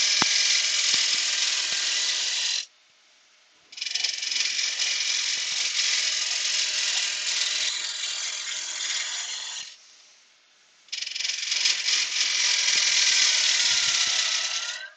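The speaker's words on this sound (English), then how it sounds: "This lathe is still playing up." A woodturning lathe shaping a bowl with a half-inch bowl gouge runs with a loud, steady mechanical rattle and whir, cutting out twice for about a second each before starting up again, with no talk.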